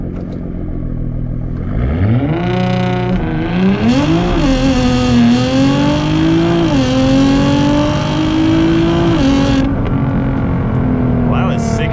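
A 700 HP Nissan GTR launches hard from launch control at 3,500 RPM on about 37% ethanol, its engine note climbing steadily through the gears with brief dips at each shift, loud and close from inside the cabin for nearly ten seconds before easing off.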